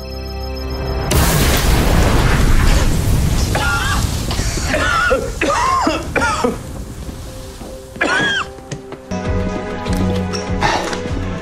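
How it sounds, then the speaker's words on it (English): Smoke bombs go off in an Arrowverse TV scene with a heavy boom and long hissing rush, followed by brief shouts and voices as the smoke spreads. "Smoke bombs."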